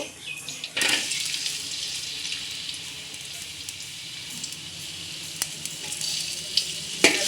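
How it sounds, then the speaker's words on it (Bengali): Chopped onion frying in oil in a cooking pot for pulao, a steady loud hiss and sizzle that runs throughout with small crackles and a few sharp pops. "এই তো পোলাওয়ের জন্য তেল দিয়ে নিলাম পাতিলে একটু পেঁয়াজ কুচি দিয়ে নিব"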